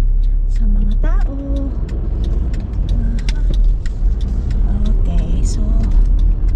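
Afternoon road traffic in Finland rumbles steadily around a car, with engine noise and passing vehicles heard up close while people talk over it.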